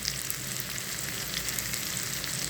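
Masala sizzles and fries steadily in a pan for hotel-style anda ghotala (egg ghotala), a continuous bright, close crackle with no pauses and no voices.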